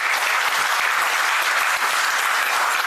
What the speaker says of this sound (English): With a big round of applause, may we invite him onto the dais.